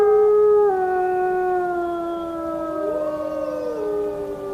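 A man imitates a wolf's howl with his own voice, a long, loud, wavering wail that slides gently downward, while fainter howls from a wolf pack overlap and answer him.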